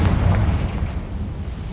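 A Confringo fire spell blasts in Hogwarts Legacy, a loud, sustained booming explosion with deep rumbling that lingers and slowly decays over about two seconds.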